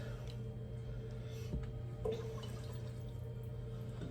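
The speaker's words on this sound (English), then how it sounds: "just top them off with a little water" Water trickling and dripping as jars of beef shepherd's pie filling are topped off for canning, a faint steady pour with a few small clinks and no talking.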